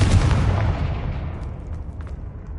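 A fiery explosion spell goes off in a Harry Potter video game, a loud booming blast that rumbles and then fades away over a couple of seconds.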